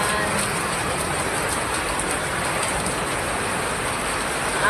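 Heavy tropical rain pours down steadily and loudly on a nearby surface, a dense continuous hiss filling the scene with no pauses.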